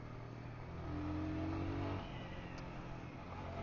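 A Royal Enfield Scram 411 motorcycle cruises along a well-kept gravel road, its engine giving a steady, moderately loud hum with a brief rise in pitch partway through, all under constant wind rush.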